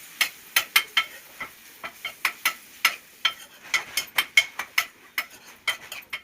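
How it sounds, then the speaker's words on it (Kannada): Tomatoes fry with ginger and garlic in a pan, giving a run of sharp, irregular crackles and pops, loud and close, with no voices over them. "ಇವಾಗ ಟೊಮೆಟೊನ ಚೆನ್ನಾಗಿ ಫ್ರೈ ಮಾಡ್ಕೊಳ್ಬೇಕು"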